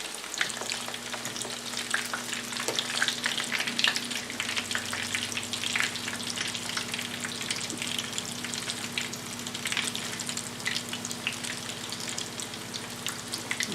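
Cauliflower pieces fry in a pan over lowered heat, a soft, steady sizzle and crackle with a low hum underneath, continuous and fairly quiet throughout.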